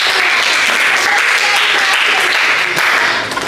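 A classroom audience applauds steadily and loudly for a few seconds, a dense wash of clapping with no pauses.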